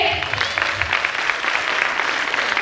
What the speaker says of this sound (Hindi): तो जोरदार तालियां पहले चंद्र सर के लिए।